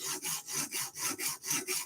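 A Microtech Stitch knife blade is drawn across UKSG sharpening stones in steady, even strokes, about seven rhythmic rasping passes, close and alone.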